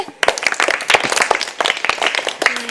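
Children in a school classroom burst into loud, quick, uneven clapping together, close and dense for a couple of seconds, with a voice faintly underneath.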